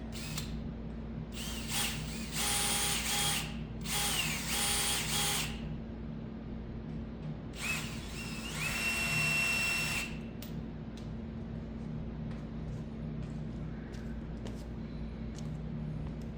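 A power drill roughing up a Ski-Doo riser bar whirs in several short bursts of high-pitched spinning, then one longer run, with quieter mechanical clicks and a steady hum between.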